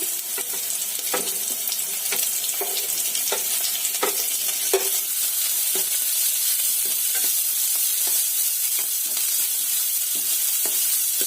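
Chopped capsicum sizzling in hot oil with lightly browned onions for a spicy veg Maggi, a steady loud fry hiss broken by regular scraping stirs, close up with no voices.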